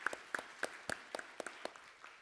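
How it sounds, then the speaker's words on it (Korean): A congregation at a Korean New Year's Eve church service claps in welcome: a steady, evenly spaced run of about ten claps, faint and somewhat distant, with no talk over it. "박수로 환영하겠습니다"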